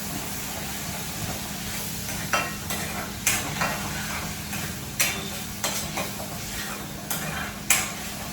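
Chole curry frying in a pan while being stirred: a low steady sizzle and hiss, with irregular spoon scrapes and clinks against the pan rising above it now and then, fairly quiet and close, with no voices.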